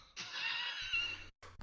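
A person imitates a sheep's baa during a tabletop role-playing game, a single drawn-out bleating voice lasting about a second, loud and close, followed by brief noise.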